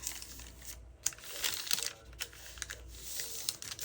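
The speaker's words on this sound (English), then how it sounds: "And then you're just going to fold it over." Paper journal pieces being folded over make close, quiet crinkles and soft rustles in brief uneven bursts, with small crisp creases and taps and no talking.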